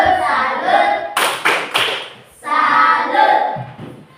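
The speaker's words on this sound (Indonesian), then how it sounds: "Tepuk salut untuk kelompoknya Piani." A classroom group applauds in Indonesian for Piani's team, with a few sharp claps and short bursts of hand-clapping between stretches of voices.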